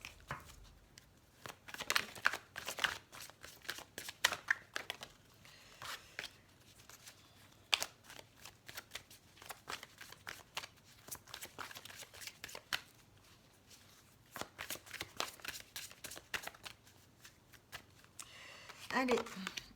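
A deck of heart chakra oracle cards is shuffled by hand in repeated soft riffling bursts, close and quiet, with some low talk between them.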